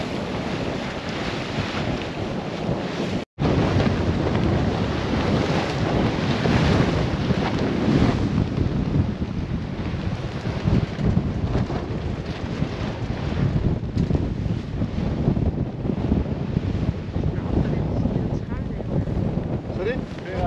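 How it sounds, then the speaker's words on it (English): Strong wind buffets the microphone aboard a sailboat on the North Sea in extreme conditions, with loud, constant roaring gusts and crashing waves filling the whole stretch, broken only by one brief dropout. "The waves are insane."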